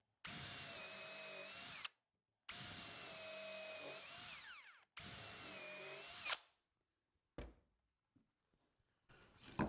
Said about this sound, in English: I'm going to pre-drill and countersink 2 holes in each.